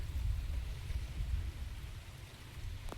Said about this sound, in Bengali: বৃষ্টি জোরে আসছে, আজ সারাদিনই এই হচ্ছে।